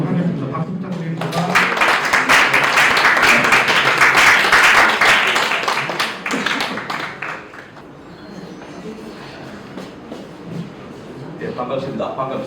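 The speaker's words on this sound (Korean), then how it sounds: "박수 부탁드립니다." Lecture audience welcoming the guest lecturer with applause, clapping swelling loudly and then fading, with a voice speaking as it dies away.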